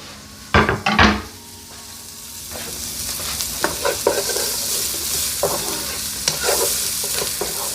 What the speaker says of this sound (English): We're gonna let these saute for about 2 minutes.